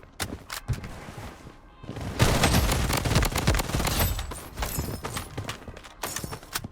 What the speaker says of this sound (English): He fired a few bullets but missed